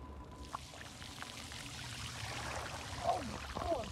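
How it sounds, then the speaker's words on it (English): Water pours and splashes from a drain flooding a street, the steady rushing wash continuous throughout with a couple of louder surges near the end, close by and outdoors. "the drain is flooding this guy"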